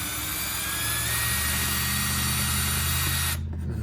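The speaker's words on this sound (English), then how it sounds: "Once these holes are drilled, we can put the screws in" A power drill bores two holes about half an inch from the edge of a board while building an inexpensive DIY keylight for video recording, a steady loud whine running unbroken and then cutting off abruptly near the end.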